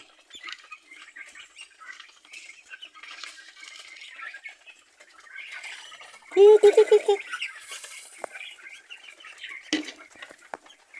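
Pet chickens and ducks feed at lunchtime, with faint pecking and shuffling throughout and a short burst of loud, close gobbling or quacking calls in the middle.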